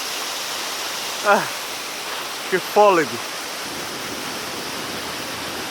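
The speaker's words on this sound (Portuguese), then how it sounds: "Aqui estou a filmar a cachoeira." Steady broadband rush of a waterfall at Montserrat fills the whole clip, with a person briefly speaking over it near the middle.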